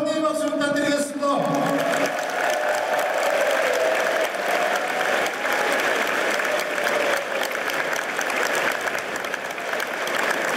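A large crowd at a Korean political rally in Jeju applauds steadily and loudly throughout, a dense wash of clapping that sustains after a brief opening of voices.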